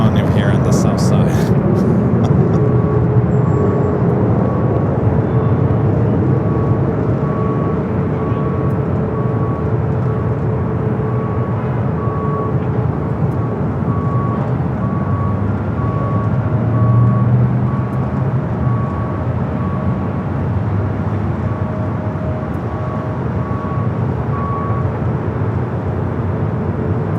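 Airliner going around at LAX, Los Angeles: a steady, loud jet engine roar fills the whole stretch with a constant broadband rumble and a faint whining tone, with radio-style talk over it.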